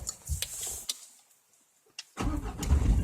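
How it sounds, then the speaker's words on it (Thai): A manual-transmission car engine cranks and restarts, with brief starter whirring, a short lull, then the engine catching and running roughly up close. "ไม่เป็นไรสตาร์ทใหม่อีกครั้งหนึ่ง"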